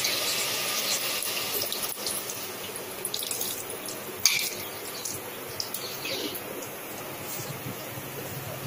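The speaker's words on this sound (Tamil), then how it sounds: "குழம்புக்கு தேவையான தண்ணி சேர்த்துக்கோங்க" Steady pouring water runs continuously as water is added to a cooking pot of sambar, with a brief clink partway through and faint background noise.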